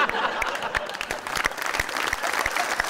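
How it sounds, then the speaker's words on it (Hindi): A studio audience on a comedy talk show bursts into clapping, distinct sharp claps over a dense bed of applause, steady and close, with faint voices underneath. "क्यों तालियां बजा दी"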